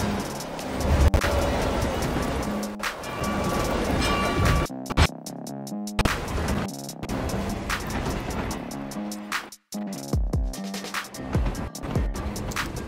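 A train rolls along in Hitman 3, a continuous rumbling clatter of wheels and carriage noise with sudden sharp drops and cuts partway through, fairly loud and close without speech.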